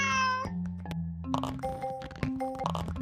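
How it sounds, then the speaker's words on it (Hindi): A cartoon cat in an animated Hindi story gives a single clear meow at the start, followed by plinking, chiming music cues. "वहां पर एक बिल्ली आती है"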